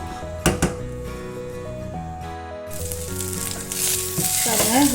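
Rice for jeera rice frying with garam masala in a pan, stirred gently; a steady sizzle swells from midway and carries to the end, with a tonal musical background running throughout.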